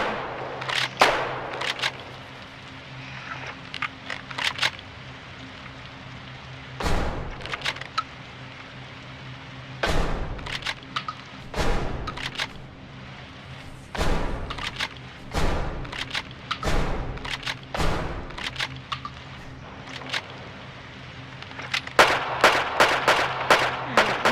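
Roblox gunfire: single loud shots and short bursts ring out at irregular intervals over a low droning background, ending in a rapid flurry of shots.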